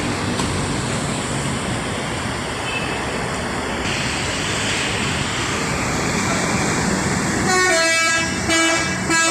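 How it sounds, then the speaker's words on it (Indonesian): A loud, melodic telolet bus horn plays a quick tootling tune over a steady, rumbling engine idle, close by, as a bus prepares to depart in Palembang. "Lolet sudah berbunyi teman-teman ya, jadi sudah siap berangkat."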